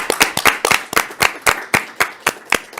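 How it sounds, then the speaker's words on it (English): Audience at a city council meeting clapping in a room, a string of sharp, distinct claps in a loose rhythm of about four per second, close and fairly loud with no talking over them. "Yes, let's clap."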